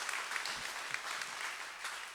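An awards-breakfast audience claps in a continuous, even burst of applause, many hands at moderate loudness with a few brief louder claps, no voices on top.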